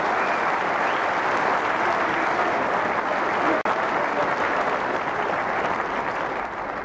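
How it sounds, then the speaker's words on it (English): A snooker crowd stands and applauds after a UK Championship semi-final. The applause is dense and steady, and it carries loudly and evenly throughout. "And the crowd stand and applaud"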